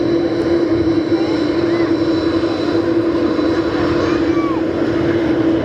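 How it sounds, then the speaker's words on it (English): A Skipper's Fokker F100 airliner arrives at Perth Airport with a steady engine drone and a sustained tonal whine, loud and continuous over a few seconds. "the Skipper's F100 there coming in from Leonora from Perth"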